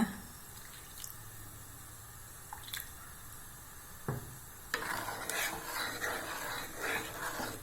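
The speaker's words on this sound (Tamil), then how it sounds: "இது நல்லா கொதிக்கட்டும்." Liquid for a sweet dish bubbles and simmers softly in a pot at close range, the bubbling growing livelier and more continuous partway through.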